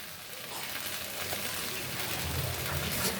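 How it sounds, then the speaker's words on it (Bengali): Okra fries in a pan over medium heat, giving a soft, steady sizzle that builds slightly, faint and close with no voices. "মিডিয়াম আসে রেখে ভেজে নিচ্ছি তাতে আমার ভেন্ডিটা সিদ্ধ হয়ে গেছে"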